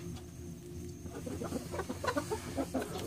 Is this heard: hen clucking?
yes